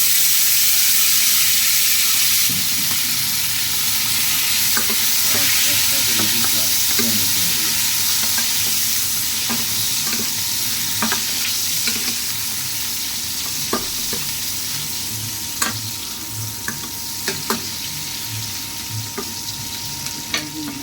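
Onions and chilies frying in hot oil in a pan, a continuous bright sizzle with scattered crackles and pops that build toward the end, with occasional stirring scrapes and no talk.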